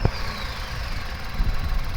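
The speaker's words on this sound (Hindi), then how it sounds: "तो स्टार्ट होती है तो इसका वाइब्रेशन कैसा रहता है और ये कितना आवाज़ करती है वो मैं आपको दिखा देता हूँ।" A 2026 Tata Punch facelift car idles just after starting, a low steady engine rumble with light vibration, heard close and alone without voices.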